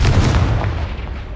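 Confringo fire spell blast in Hogwarts Legacy, a loud booming burst that rumbles and fades over about a second, with no voice over it.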